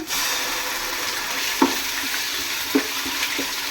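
Onions fry with ginger garlic paste in a pan for chicken biryani, making a loud, constant sizzle with a few brief stirring knocks close by.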